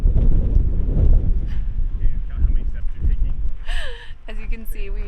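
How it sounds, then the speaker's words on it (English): Strong wind buffets the microphone with a heavy low rumble throughout, while a voice speaks briefly near the end. "really super windy today"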